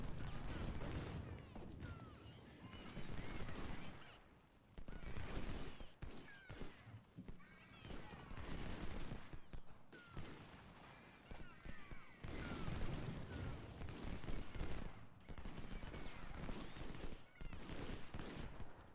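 Faint, distant gunfire aimed at the general in the war game UGCW: scattered volleys and rattling shots crackle continuously, mixed with horse whinnies and hoofbeats under a busy battle din.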